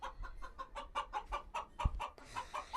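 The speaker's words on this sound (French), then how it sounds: "La poule était en train de pondre des œufs et de coudre en même temps." A hen clucks in a henhouse, giving a quick, regular run of short, fairly faint clucks that keep an even rhythm throughout.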